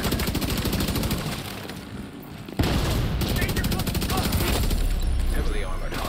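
Carbine 7 rifle fire in the shooter game The Division 2, rapid sustained bursts of automatic gunfire with a brief lull before a sharp resumption, loud and dense, with a voice now and then.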